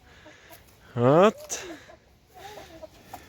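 Chickens kept alongside rabbits in an outdoor farm setting give a short, loud burst of clucking, followed by fainter bird calls, while a person speaks briefly nearby.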